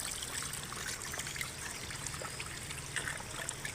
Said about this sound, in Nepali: यो पँधेरो पानी खाँदैछु यो पानी हो